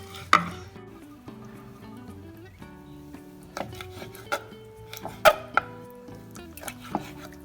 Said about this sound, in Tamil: இந்த மாதிரி இந்த சைஸில் எல்லாம் வெட்டிட்டா சரி.